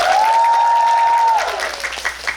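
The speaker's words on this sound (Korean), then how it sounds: "박수 한번 주시죠." A musical's closing-night audience claps for the band during a stage greeting, loud continuous applause overlaid by a held tonal note that fades as the clapping thins out near the end.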